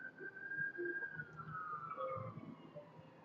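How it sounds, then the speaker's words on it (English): Emergency sirens wail steadily as vehicles pass outside, a long rising-and-falling tone over distant traffic rumble, moderately loud throughout. "Let's wait for this sirens to go by here."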